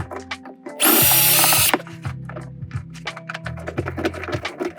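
Power drill driving a screw into staircase wood during a DIY remodel, a loud high-speed whir lasting about a second, then a lower, stuttering drive with a ratcheting rhythm as the screw snugs down.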